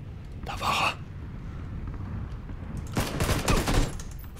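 Gunfire in the battle royale game PUBG: a short burst of shots early on, then a louder, denser volley of several rapid shots near the end, over a steady background hum.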